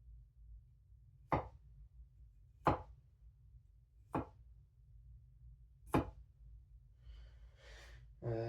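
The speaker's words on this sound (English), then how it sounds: "I can push cut, look." A Yu Kurosaki Senko Ei SG2 gyuto knife push-cutting on a cutting board: four distinct, evenly spaced crisp thunks against a low steady hum, then a soft rustle.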